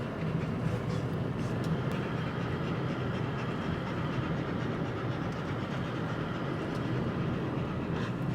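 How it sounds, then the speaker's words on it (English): A steady rumbling train rolls past in Kingman, Arizona, with a continuous low roar and faint rhythmic clatter, moderately loud and unbroken throughout. "Train."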